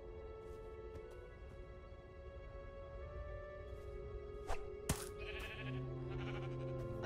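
A sheep bleats in the video game Minecraft Story Mode, with a few sharp clicks and thumps near the end over a continuous game soundtrack.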